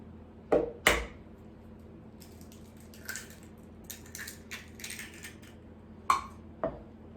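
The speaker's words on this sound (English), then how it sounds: "we're gonna add in 1 egg, and we're gonna stir it all up" A utensil scrapes and clinks against a bowl while an egg is mixed into gluten-free banana bread batter, with a few sharp knocks at the start and end and softer scraping strokes in between, close and clear.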